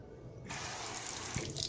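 A tap runs water onto an Apple iPhone 7, starting as a faint trickle before the flow suddenly strengthens into a loud, steady splashing rush.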